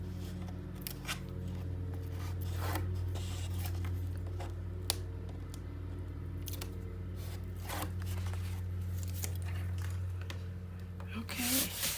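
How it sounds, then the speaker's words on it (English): Tape peeled off a mini album in a paper craft build, heard as scattered crackly tearing and rubbing noises over a steady low hum, fairly close and moderately loud, with no speech. "And then I'll get in here and take the rest of this tape off."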